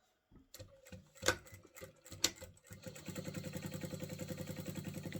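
Sewing machine stitching a quilt seam for a cathedral windows quilt: a few handling clunks, then a steady, fast, even run of stitches, close and moderately loud.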